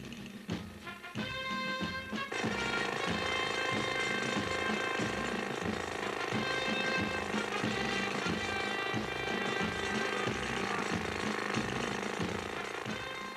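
Rock drill boring into extremely hard rock at a mining site, a loud, relentless hammering rattle that starts with a few uneven bursts and then runs continuously at full power.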